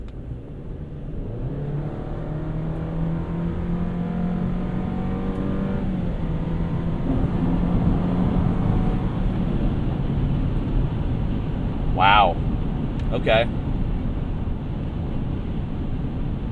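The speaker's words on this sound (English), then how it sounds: "Man, even the Plus engine's got some get up to it." A 2023 Chevrolet Colorado Z71 pickup engine pulls hard under acceleration, its drone climbing through the gears in a close, loud cabin recording, with brief exclamations from the driver and a couple of sharp clicks later on.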